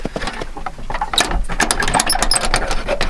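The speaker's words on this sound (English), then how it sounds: "this well is driven by a gasoline-powered engine" A small gasoline engine driving a well pump chugs loudly and steadily nearby, its rapid mechanical rattle continuing without pause.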